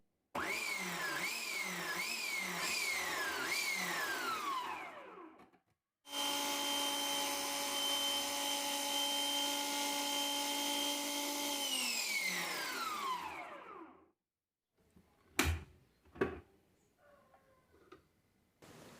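A food processor fitted with a slicing blade pulses through radish in short whirring bursts that rise and fall, then runs in one longer steady whine that winds down. A few sharp clacks follow near the end.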